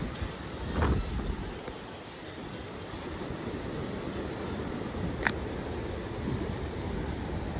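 An approaching EF2 tornado near Arnold, Missouri rolls as a distant, continuous freight-train roar, a broad low rumble with faint gusts and one sharp crack partway through.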